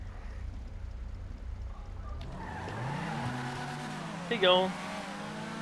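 Cars line up for a drag race in GTA 5 among Brioso 300, Brioso 300 Widebody and Brioso R/A models, engines idling low, then revving and rising in pitch as they launch, with a short tire squeal and brief talk.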